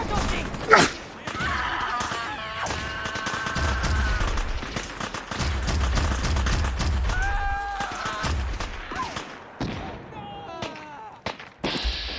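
Gunners attacking in Fallout 4 produce several sharp gunshot bursts and thuds scattered across the scene, mixed under spoken narration and game music, with loud peaks near the start and end.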